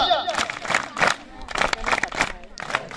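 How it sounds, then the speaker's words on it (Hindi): Audience applause at a school award ceremony during a Red Cross awareness event at an inter college in Uttarkashi, with loud clapping bursts over crowd noise and voices speaking. "विशेष ताली बजा।"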